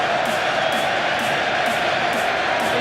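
Chelsea football fans cheering in a stadium, a dense, steady roar of crowd noise at close range with a faint voice over it.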